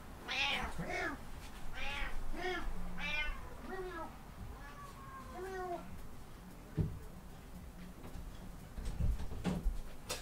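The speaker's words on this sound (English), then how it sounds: "that's a crazy cat. That's all I gotta say. That cat just wants to talk and talk and talk." A house cat meows repeatedly indoors in a bedroom, a run of close, rising and falling cries in quick succession, then a pause with a few soft knocks and movement noises.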